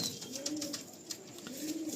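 Pigeons from a loft coo softly in a low, rolling murmur that rises and falls, with faint chirps above, steady and fairly quiet with no voices.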